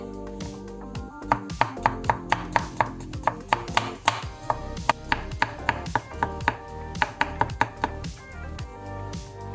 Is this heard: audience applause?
no